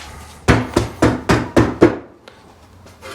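Stretched metal being hammered flat inside a bowl, six sharp, ringing strikes in a steady rhythm followed by a faint trailing tap, loud and close.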